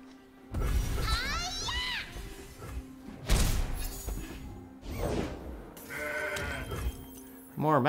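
Goat bleats from the Mountain Goat card in the Legends of Runeterra video game, several wavering cries rising and falling over a steady game soundtrack, mixed with thuds and crashing effects and someone talking throughout.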